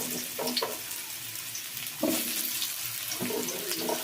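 Potatoes frying in refined oil, a steady soft sizzle with a few scraping stirs and brief clinks from the pan, close and without voices.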